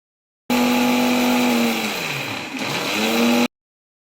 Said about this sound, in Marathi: हे बघा, ही मिरची पावडर मी बारीक करते.